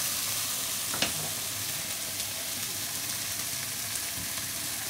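Tomatoes and onions fry together in a pan, giving a dense, even sizzle with a couple of faint stirring clicks, close and continuous without speech.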